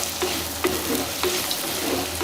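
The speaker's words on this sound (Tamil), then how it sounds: "இப்போது கருவாடு சேர்த்தாச்சு. இதை வந்து நல்லா ஒரு வாட்டி கிளறி விடலாம்" Dried anchovies (nethili karuvadu) being stirred in a pan for a thokku gravy, a continuous close sizzle with regular light spatula scrapes and taps at an even rhythm, no voices.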